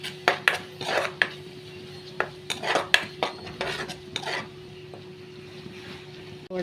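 A spoon stirs masala paste with green chillies and a little turmeric in a pan, making sharp, close clinks and scrapes in a quick irregular run that fades into a low sizzle.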